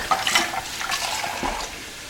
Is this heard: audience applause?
no